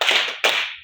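A class of students clap hands together in a counted clap pattern, two sharp collective bursts of claps in quick succession, close and loud, with no talking over them.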